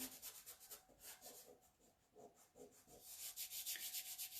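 Hand rubbing down fuzzy craft material, a soft rhythmic back-and-forth scrubbing with steady strokes, close but quiet, with no talk.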